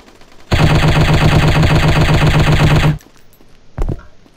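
A loud, sustained machine-gun burst in the mobile shooting game Striker chapter 2 fires rapid even shots for about two and a half seconds, then cuts off, leaving a single later thump.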